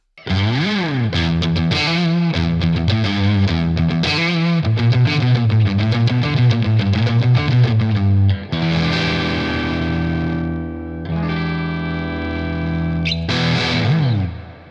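A heavily distorted electric guitar through a Cornell Legacy fuzz pedal plays chords and riffs, thick and saturated, ending on sustained ringing chords.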